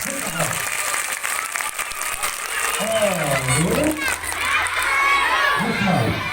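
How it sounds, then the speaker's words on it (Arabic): Schoolchildren at a school event clap and cheer loudly, with shouting voices and excited high-pitched cries swelling over continuous applause, while an adult voice talks through it. "عطوني تصفيقة حارة عليكم"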